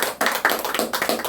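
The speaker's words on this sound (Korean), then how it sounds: "박수로 한번 시작하겠습니다." Audience clapping in rhythm at a company presentation event in Seoul, with quick, evenly spaced claps that stay steady and fairly close throughout.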